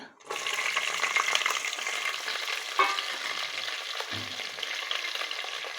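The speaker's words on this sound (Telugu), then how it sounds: "ఉల్లిగడ్డలను మిర్చి అయితే వేసేస్తానండి" Onions and green chillies frying in hot oil with cumin and tempering seeds, a steady close sizzle lasting throughout with occasional stirring clinks and no talk.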